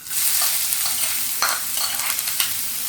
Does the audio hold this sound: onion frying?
yes